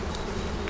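Honey bees buzz at a loaded eight-frame hive, a dense, close and steady drone that fills the whole short moment.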